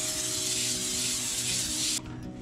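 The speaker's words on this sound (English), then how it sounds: "Non-stick spray." Non-stick cooking spray hisses from a can onto a parchment-lined baking sheet in a steady, close spray lasting about two seconds before cutting off.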